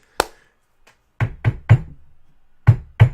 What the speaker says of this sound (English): Knocking on fucking wood on that one.